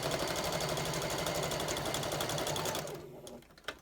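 A sewing machine stitches fabric along a diagonal line for a quilting seam, a steady close rapid whirring that runs for a few seconds and then stops, leaving a faint click.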